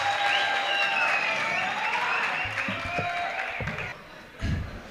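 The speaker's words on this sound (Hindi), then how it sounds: "ज़ोरदार तालियों में इस्तकबाल करें" Applause greets the poet Zubair Ali Tabish at a Jalgaon mushaira, a steady dense wash of clapping that carries on through the clip and thins toward the end.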